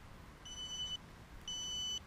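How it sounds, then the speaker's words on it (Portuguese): A BFight 210 drone's lost-signal beeper sounds two long, high, piercing tones, each lasting about half a second and separated by a short pause, over a quiet background. "Este bip é muito bom caso o drone caia e a gente perde o drone."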